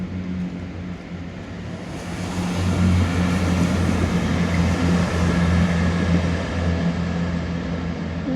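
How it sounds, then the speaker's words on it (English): A train passes near the Teignmouth seafront, a steady broad rumble that swells after a couple of seconds and holds loud and continuous, with no talking over it. "I hear a train"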